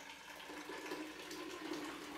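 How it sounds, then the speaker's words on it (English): Hot filtered water, boiled on the stove, pours steadily into a pitcher as a continuous soft splashing rush, with no voices. "I have boiled some hot filtered water on the stove, and you just go ahead and you fill it up"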